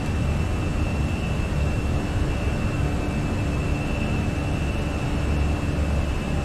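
Jet engines of an Airbus A320 airliner in a flight simulator game, advanced to climb throttle, give a steady, loud broadband roar with a faint constant whine, with no one talking.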